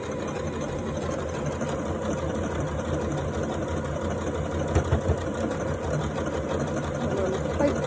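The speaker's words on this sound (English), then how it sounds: "So now what I can do is just stitch it out." A Janome Atelier 3 sewing machine stitching out a pattern runs with a steady, fast, mechanical whir and rapid needle chatter. It is close, loud and continuous with no pauses.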